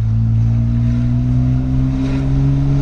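A Hyundai Veracruz V6 rated at 270 hp, fitted with a stainless steel exhaust and diffuser, drones deep and steady up close. The engine pitch climbs gradually and stays loud and continuous, with no voices over it.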